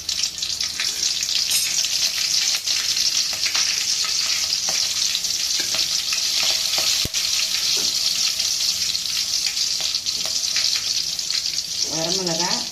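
A slit green chili dropped into hot oil in a pan while cooking dal rasam, giving a steady bright sizzle and crackle that runs throughout, with faint kitchen clatter and a brief voice near the end.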